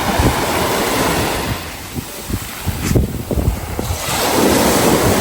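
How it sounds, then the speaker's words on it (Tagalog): Ocean waves crash and wash along the shore near Lubang Island, a rolling roar of surf that swells, eases briefly, then builds again, with wind buffeting the microphone. "hampas ng mga alon"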